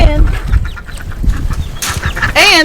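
Ducks quacking near a family's shipping container cold room setup, a few loud, harsh calls near the end, under and between talk with background rustling.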